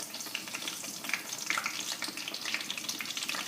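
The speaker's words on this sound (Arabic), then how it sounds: "دونك نبدا نقلي" Slices of eggplant frying in hot oil in a pan, a steady crackling sizzle with scattered pops, moderately close and alone without talk.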